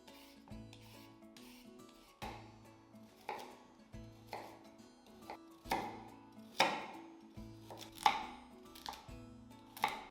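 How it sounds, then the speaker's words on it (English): A knife chops carrots on a cutting board, a close series of crisp thunks at an uneven, quickening pace, quiet overall with no talking. "peel and chop your carrots"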